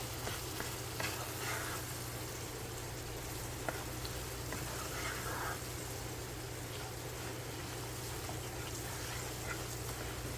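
Garlic butter chicken pasta sauce with wine simmers and sizzles in a pan, a continuous soft bubbling and frying hiss with a low steady hum beneath and occasional faint clinks.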